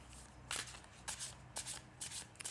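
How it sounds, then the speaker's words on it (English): Tarot cards shuffled in several quick riffling bursts at a table, close and fairly quiet, with short pauses between each flurry and no talk. "I have pre-shuffled the cards, but I will shuffle them again for you"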